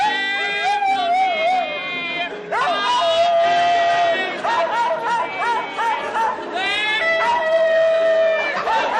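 A dog howls along to a song on a 1974 television game show, long wavering yowls rising and falling over the music and studio chatter.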